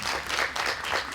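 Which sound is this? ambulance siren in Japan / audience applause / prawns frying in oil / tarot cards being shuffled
audience applause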